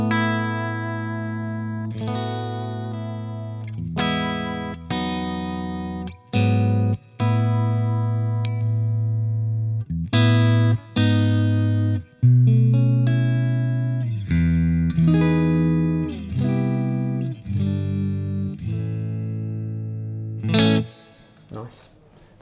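A Fender Player Series electric guitar with the pickup selector in positions 2 and 4 plays a phrase of sustained, ringing notes and chords with bright, slightly hollow tones, each note decaying before the next is struck.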